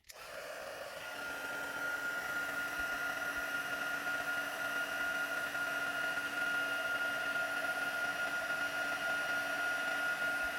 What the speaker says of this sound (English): So then let's just heat that up.